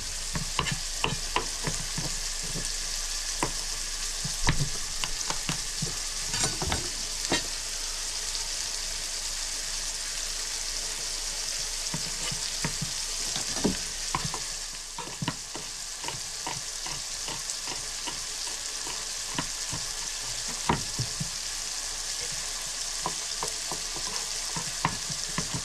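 A chilli mixture fries steadily in a pan, a constant close sizzle punctuated by frequent clicking spatula scrapes and stirs.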